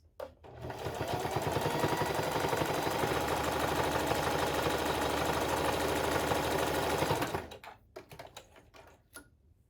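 Sewing machine stitching a pouch with navy thread on a close stitch setting, running in one fast continuous rattling burst for about seven seconds, close and steady, then stopping, followed by a few handling clicks.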